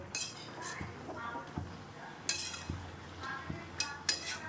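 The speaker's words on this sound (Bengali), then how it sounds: "শাকটা হতে থাক, আস্তে আস্তে আমি একটুখানি নেড়ে দিই ততক্ষণ" Greens being stirred in a pan, with a utensil scraping and clinking against the pan in a loose, irregular rhythm of soft knocks and rattles, close by and fairly quiet.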